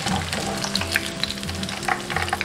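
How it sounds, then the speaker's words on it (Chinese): Leeks, scallions and cilantro fry in oil over medium-low heat, giving a steady, close bubbling sizzle with faint stirring scrapes and no voices. "先下入大葱、小葱、香菜，中小火炸。"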